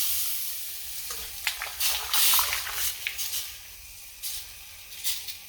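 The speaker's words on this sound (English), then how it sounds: "I'm gonna dunk all these fries right in it" Fresh-cut potato fries are dunked into a pot of boiling water fitted with a straining insert, giving close bursts of splashing and bubbling hiss that rise and ebb irregularly, with no talking.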